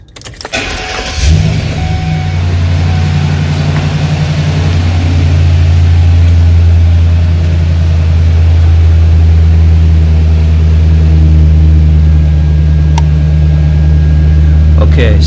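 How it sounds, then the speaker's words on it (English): A car engine cranks briefly and catches, then settles into a loud, steady idle with a constant low hum that runs unbroken to the end. "now what I'm going to do is start the engine"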